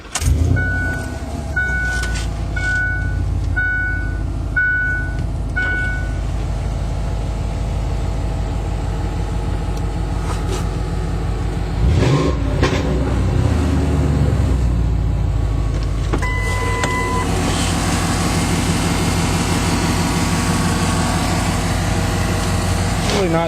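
A pickup truck's engine runs steadily throughout while driving, with a few swells of revving and some talk mixed in over the drone.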